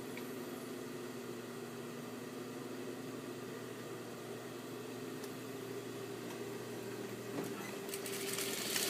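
A sewing machine running steadily as it stitches the side seam of a skirt lining, a continuous close motor hum with a mechanical buzz that grows slightly louder toward the end.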